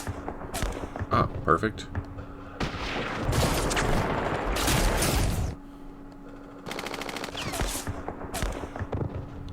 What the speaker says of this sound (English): let's start raking this with some fire